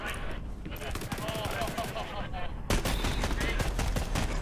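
Gunfire from a sniper rifle and other weapons rattles in Borderlands 3 gameplay, dense overlapping shots and bursts under a player's voice, with a louder volley hitting partway through.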